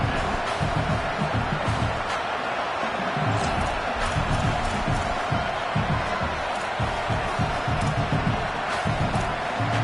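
A large stadium crowd at an American football game roars in a dense, continuous wash of noise with a steady low rumble, as the home fans grow loud on fourth down.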